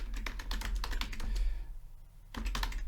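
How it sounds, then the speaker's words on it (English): Rapid, uneven typing on a computer keyboard, close and clear, with bursts of key clicks broken by a short pause before a final flurry. "I don't type all that well, but there it is"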